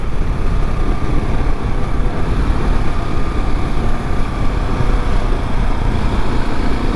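A KTM 690 Enduro R single-cylinder motorcycle riding along, a steady loud engine drone mixed with wind rush throughout, with no talking.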